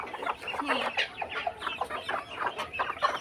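Several chickens cluck busily and closely while pecking at scattered feed in a village yard, a continuous overlapping chatter of short clucks with no talking.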